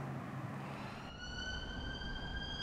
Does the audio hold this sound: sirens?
yes